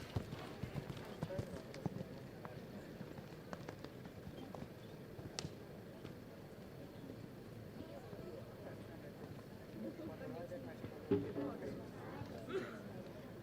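Horse hooves during a men's show jumping riding final at the 2014 European Championships in Hungary, with irregular clip-clop steps heard at a distance amid crowd murmur and a commentator talking over it.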